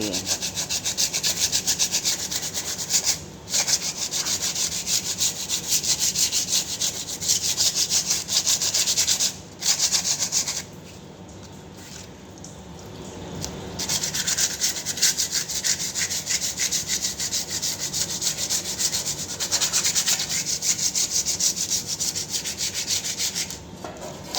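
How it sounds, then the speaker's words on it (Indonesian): Steady back-and-forth wet sanding by hand with sandpaper on a bumper, rasping and continuous, with a few brief pauses and a softer stretch midway. "Ini udah kering ya, mau saya amplas dulu."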